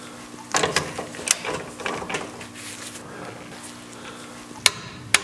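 A torque wrench tightens a rear suspension bolt to 40 foot-pounds on a Ferrari 308, giving a handful of sharp metallic clicks and ratcheting taps at close range, with a final pair of distinct clicks.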